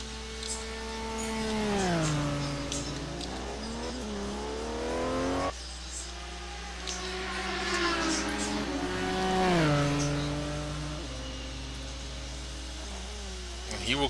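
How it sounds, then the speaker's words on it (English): A Ferrari race car driving at Road America, its engine rising and falling in pitch through gear changes, heard under a commentator's talk. "So, John Houston driving the Ferrari."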